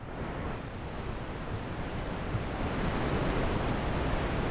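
A white noise generator guitar pedal, the Copilot FX Arrow Airwaves Supreme, produces a dense, steady hiss resembling ocean surf or a heavy waterfall, constant and loud throughout.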